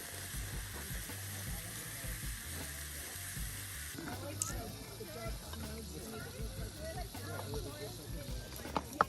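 Seasoned ground beef frying in olive oil in a pan at an outdoor campsite, a steady close sizzle running throughout, with low rumbling noise underneath and a few sharp clinks near the end.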